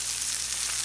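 Meat sears in a hot cast iron pan as it is kept moving, giving a steady close sizzling hiss for under a second, with no voices.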